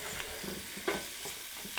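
Spices for a curry sizzle and crackle steadily in a hot pan, with a few sharper pops and scraping stirs breaking through the continuous frying hiss.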